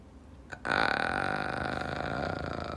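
A long, loud burp from a man, a single drawn-out croaking belch of about two seconds with a strong voiced tone, heard alone after a brief faint sound.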